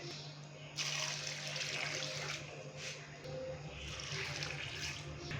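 Water pours in a steady rushing stream into a cooking pot of beef tikka karahi for several seconds, then eases off and pours again, over a low constant hum.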